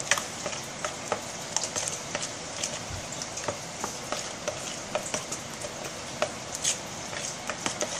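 Hummus ingredients are mixed by hand in a bowl, making rhythmic, close scraping and clicking strokes of a utensil that repeat steadily over a soft wet background.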